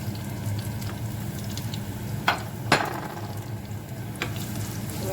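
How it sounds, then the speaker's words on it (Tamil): Onion, dried red chillies and curry leaves fry in a pan for a Jaffna-style snake gourd and cabbage dish, with a steady low sizzle and occasional sharp pops and stirring scrapes, close and moderate. "வெங்காயம், செத்தல் மிளகாயம், கருவேப்பிலையை சேர்த்து போடுவோம்."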